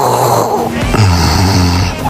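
A snore clogged with phlegm gives a thick, gurgling rattle on each breath, rough and close, over about two seconds.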